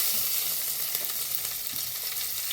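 Curry leaves, spices and green chilli being tempered in hot oil for a cabbage dish give a steady, close, loud sizzle and crackle that runs unbroken throughout, with no talking.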